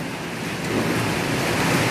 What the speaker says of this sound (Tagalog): Oo, malakas ang hangin.